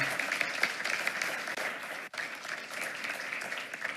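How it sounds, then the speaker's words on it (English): Audience applause at a school student-of-the-month award ceremony, a dense steady clapping from a crowd that carries on for about four seconds. "Let's give her another round of applause."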